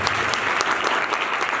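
A steady burst of crowd applause, many hands clapping continuously at moderate volume.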